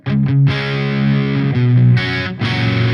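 An electric guitar through an ADA MP-1 clean tube preamp setting plays a few bright, clean chords with a warm, full amplified tone, ringing and changing every second or so.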